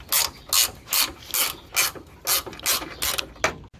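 A ratchet wrench backs a 7/16 bolt out of a 1969 Ford Mustang fastback, producing about nine quick bursts of ratcheting clicks in an even rhythm, close up and with no talk.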